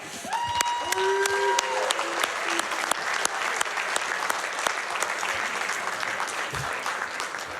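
Live audience at the Summer Games Done Quick 2019 speedrun marathon applauding and cheering loudly after a Perfect Dark run, steady dense clapping with whoops throughout, a few faint voices mixed in.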